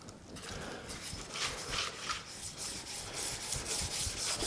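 Sharpening stone rubbed back and forth along the flat of an oiled old handsaw blade, a steady run of close, gritty scraping strokes repeating without pause.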